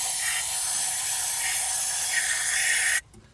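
Carb cleaner blasts from an aerosol can in one continuous loud hiss lasting about three seconds, then cuts off sharply, used while cleaning a hole on a 1972 GMC that sat for over thirty years.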